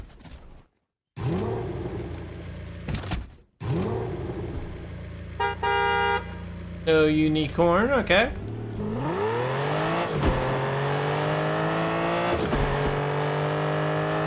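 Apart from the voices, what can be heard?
car starting and driving in video game Fortnite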